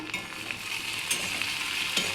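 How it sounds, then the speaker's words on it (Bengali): Ivy gourd (kunduri) sizzles steadily in a frying pan as it is stirred, with a few scraping clinks of the spatula over the continuous close crackle, and no speech. "এবার একটু নাড়িয়ে দেবো"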